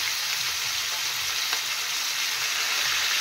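Onion, tomato and green chilli fry in a pan for a gongura curry with farm chicken, giving a steady, loud, unbroken sizzle with no voices.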